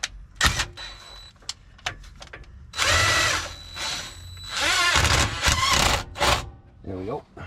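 Several bursts of a cordless drill whirring and straining on Loctite-secured bolts on a Jeep Rubicon, separated by short pauses, close and loud, with some speech in between.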